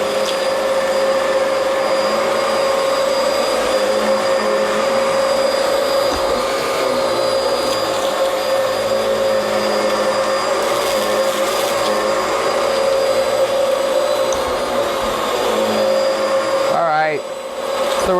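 A Bissell Powerglide Pet vacuum cleaner runs loud and steady while sucking up globs of pet fur and larger particles, with a constant motor whine and brief rattling pickups, and a short dip in pitch near the end.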